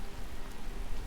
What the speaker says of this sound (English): you really get the sense of like the game being wet, all these raindrops and splashes and stuff